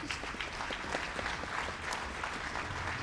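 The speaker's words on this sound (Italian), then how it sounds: "e quindi un applauso anche all'opera lirica" Continuous applause from an audience at a gala concert of the Friuli Venezia Giulia International Piano Competition, honoring Italian opera, fills all three seconds at an even, moderate level.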